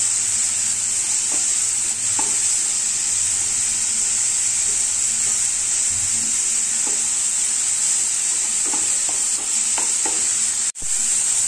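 Bottle gourd frying on medium heat in a pan, a steady continuous sizzle throughout with occasional soft stirring scrapes and a brief dip near the end; no talking.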